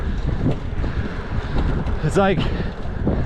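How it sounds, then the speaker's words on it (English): Wind buffets the microphone during an uphill bike ride on a trail at Banning Lewis Ranch in Colorado Springs, a constant rough rumbling gust under a rider's brief speech. "especially with that wind blowing in your face"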